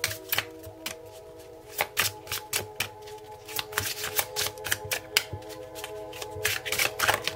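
A deck of tarot cards is shuffled by hand in a quiet room, giving a series of crisp riffling bursts and soft flutters in an uneven rhythm, close and moderately loud with no talking.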